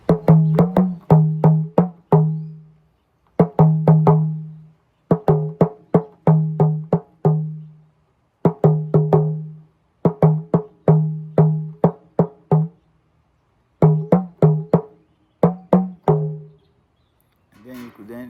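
Hand drum played with its skin held tighter, producing quick clusters of sharp, resonant strokes in repeating rhythmic phrases separated by short pauses, close and loud, alone.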